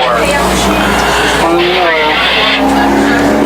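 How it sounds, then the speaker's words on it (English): Stock car spinning out on a speedway during a Pro/Street Stock feature race, loud engine roar with squealing tires, heard close under continuous announcer commentary. "1 car spun around."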